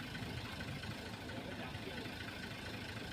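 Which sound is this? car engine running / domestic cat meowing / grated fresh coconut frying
car engine running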